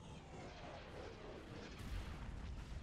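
Blaster fire and explosions in a Star Wars space battle in the game Thrawn's Revenge, involving a Bellator ship: a faint, continuous rumbling barrage of distant booms with no clear breaks.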